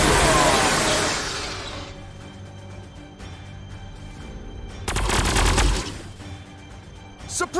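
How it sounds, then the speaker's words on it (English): Suppressing machine gun fire in Warhammer 40000 Sanctus Reach, loud dense bursts at the start, then a second rattling volley and a brief final burst, with quieter battle noise between. "Suppressing fire!"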